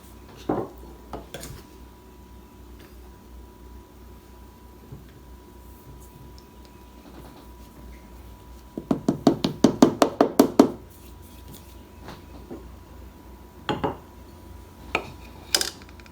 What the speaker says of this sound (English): And I'm going to continue mixing this with my wooden spoon.